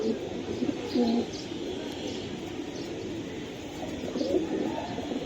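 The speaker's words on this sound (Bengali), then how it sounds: "এটা পাল্লা লাইনের কবুতর বন্ধুরা" Low, soft cooing of Palla-line high-flyer pigeons repeats under a steady murmur of background noise and faint chirps.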